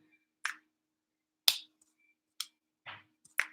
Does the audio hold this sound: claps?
yes